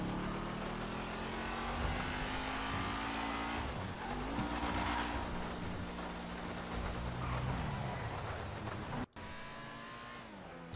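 A car drives in GTA San Andreas with a texture mod, its engine droning steadily with pitch rising and falling as it accelerates and eases off. It cuts out briefly near the end, then resumes at a lower level.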